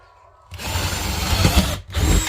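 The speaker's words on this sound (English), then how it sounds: "I'm just going to drill a hole somewhere here in the middle." Altocraft cordless drill boring a hole through a thin wooden board, a loud, close whirring burst that runs steadily for over a second, cuts out briefly, then spins up again.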